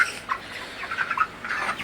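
Heavy broiler roosters of about four kilograms on a small farm in Faridpur, Bangladesh, give a series of short, nasal gobbling clucks in quick irregular bursts at close range, with no talking.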